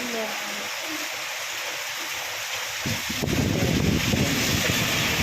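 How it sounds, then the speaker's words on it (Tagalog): Heavy rain with wind pours down outdoors, a broad hiss that swells sharply partway through into a louder, rougher downpour with low rumbling gusts across the microphone. "Ang lakas ng ulan."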